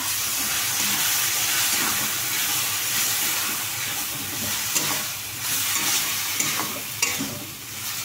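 Vegetables fry with ground cumin in a pan for paneer kalia, giving a steady close sizzle with scraping stirs and a few light knocks of the spoon against the pan.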